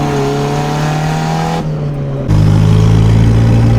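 A loud turbocharged Honda Civic engine drones and revs with a harsh, raspy roar vented through an internal-wastegate screamer pipe, briefly dipping before surging louder and steady.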